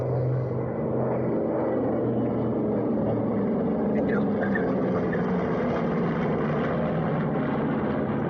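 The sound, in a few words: Mitsubishi Zero warbird aircraft flying pass at airshow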